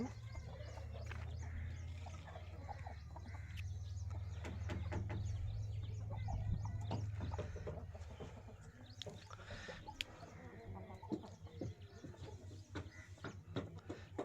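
Hens kept for breeding on a farm give scattered soft clucks and short calls over a low steady hum, with the background quieting later on.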